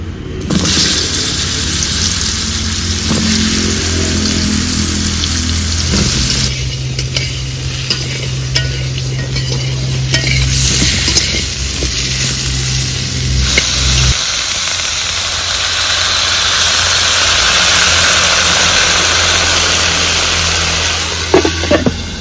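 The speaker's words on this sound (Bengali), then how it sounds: "ভেজে নেব কেটে রাখা পটল।" Cut pointed gourd (potol) sizzles and crackles loudly in hot oil in a pan, a continuous frying hiss broken by scraping stirs, with a low hum in the background.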